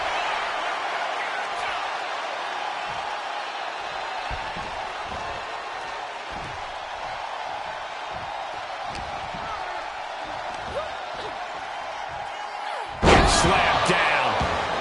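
A wrestler is slammed down in the WWE 2K25 video game. Several dull thuds land under a steady crowd roar, and one loud, sharp slam hits near the end while a commentator talks over the action.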